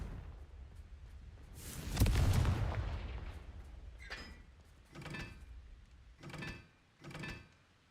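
A Confringo fire spell blasts in the video game Hogwarts Legacy, one loud explosive burst with a broad rumbling tail, followed by three shorter, quieter impact bursts spaced about a second apart.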